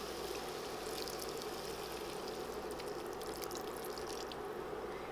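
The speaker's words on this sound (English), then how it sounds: "So now we're going to go ahead and add the rest of our broth in." Broth poured into a pot of quinoa, a steady close stream of liquid running continuously with a faint splashing trickle, heard alone without talk.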